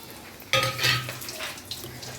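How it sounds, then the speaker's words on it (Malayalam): Dried red chillies roasting in a pan for idli powder, a sudden clatter and scrape of a utensil against the pan followed by light sizzling and stirring. "ഇതിലേക്ക് കപ്പൽമുളക് ഇടുന്നുണ്ട്."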